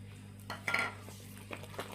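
Half an egg white being mixed into cookie dough for caramel almond nankhatai in a bowl, faint scraping and a few light clinks of a utensil against the bowl over a steady low hum.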